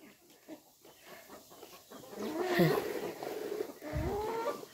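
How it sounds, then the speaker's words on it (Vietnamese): Hmong chickens vocalizing with a few rising clucks and calls at moderate distance, over faint background noise and rustling. "Cái này là gà là gà rặt nha mọi người"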